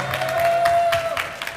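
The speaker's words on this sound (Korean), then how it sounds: "박수!" Light, scattered applause from an audience at a campus busking event, a few claps at moderate distance that thin out quickly, with a faint tone running underneath.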